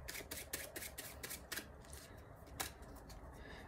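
A deck of playing cards gets shuffled at close range, with several quick riffling bursts followed by a softer patter, and no voice over it.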